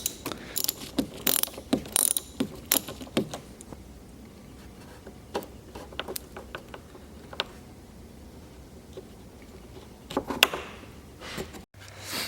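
A 10 mm socket ratchet loosens the battery terminal on a 2005 Hyundai Sonata, giving close bursts of quick clicking pawl ratchets separated by quieter pauses, with a final clunk near the end.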